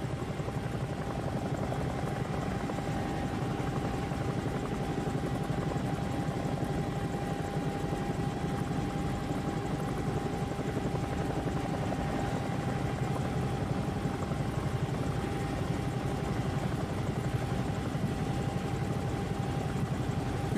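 A Bell 222 helicopter hover taxiing at Boston in a flight simulator, its steady loud rotor thrum and engine whine holding unbroken throughout with no talk.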